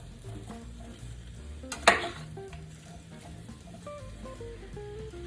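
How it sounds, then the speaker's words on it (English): Sweet onions sautéing in a pan, a steady quiet sizzle with stirring scrapes and one sharp clink of utensil on pan near the two-second mark; no speech. "These beautiful sweet onions go next. And I'm gonna toss that around a little bit."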